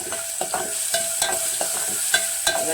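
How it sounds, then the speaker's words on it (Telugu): Turmeric being stirred into onions frying in a pan, with a spatula scraping and clicking in an irregular rhythm over a steady close sizzle. "కొంచెం పసుపు వేసి కలుపుకుందాం"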